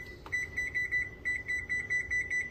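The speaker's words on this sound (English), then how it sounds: "I'm going to set my timer." A kitchen timer on a stove beeps repeatedly as it is set while lamb chops cook, giving a string of short, clear, closely spaced electronic beeps over faint background noise.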